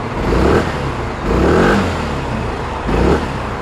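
An RKS Precio 250cc motorcycle engine runs close by, rumbling steadily with a few short revs rising and falling.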